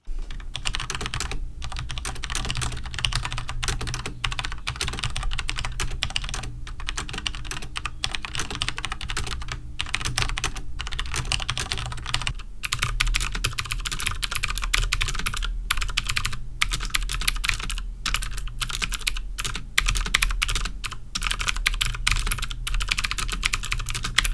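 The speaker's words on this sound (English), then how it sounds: "I decided to record a comparison between the new Model M and my Cherry MX Brown and Blue keyboards" Rapid, continuous typing on Unicomp New Model M and Cherry MX keyboards, with dense clacky keystrokes at an even pace and brief pauses, recorded up close with no talking.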